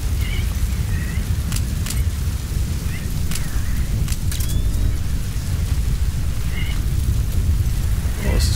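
Storm in Metal Gear Solid V, with constant rain hiss and deep rumbling underneath, scattered short clicks and faint chirping calls through it, and no talking.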